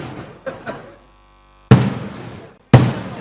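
A few small pops, then two loud firecracker bangs about a second apart, each with a ringing tail.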